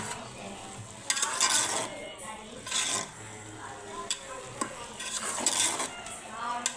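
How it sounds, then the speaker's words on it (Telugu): A spoon stirs vegetable biryani with garam masala powder, mint and coriander in a pot, with scraping strokes against the metal in bursts between quieter gaps and a faint sizzle underneath. "గరం మసాలా పౌడరు, కొద్దిగా పుదీనా, కొత్తిమీర వేసేసి ఒకసారి కలిపేసుకొని మూత పెట్టేసుకుందాం"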